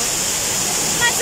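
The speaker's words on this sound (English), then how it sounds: "Hindi po siya natural waterfall." Man-made waterfall channelled down a mountainside from a water supply above, in Khorfakkan, giving a steady, dense broadband rush that stays even and close throughout with no distinct splashes.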